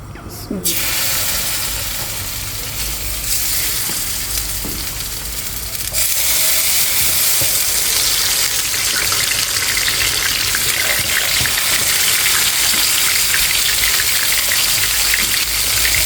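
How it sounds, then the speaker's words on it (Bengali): Hilsa fish frying in mustard oil, a loud, continuous crackling sizzle that jumps louder partway through as pieces hit the hot oil, close to the pan. "ইলিশ মাছটা সরষের তেল দিয়ে ভাজবো।"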